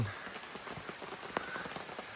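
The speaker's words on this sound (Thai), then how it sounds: "ฝนตกให้ทั้งคืนเลยนะครับ ลากยาวมาจนถึงในเช้านี้ก็ยังตกให้อย่างต่อเนื่อง" Steady rain falls on a forest through the morning after an all-night downpour, a soft continuous patter of drops with a few louder nearby splashes.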